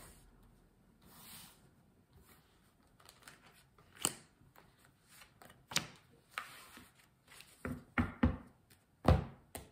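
Tarot cards cut and shuffled by hand for a Scorpio reading, a run of soft papery slaps and knocks, sparse at first and then faster and sharper toward the end, close up with no voices.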